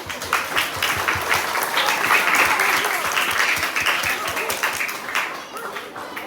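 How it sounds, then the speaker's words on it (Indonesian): A school audience applauds loudly and steadily at a primary school's KBAT week competition, dense clapping filling the whole stretch with voices mixed in. "Bagi tepuk tangan"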